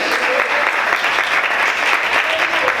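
Steady, enthusiastic church congregation applause fills the space, a dense wash of clapping from a large crowd that continues without pause.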